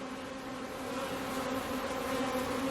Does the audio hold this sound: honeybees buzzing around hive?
yes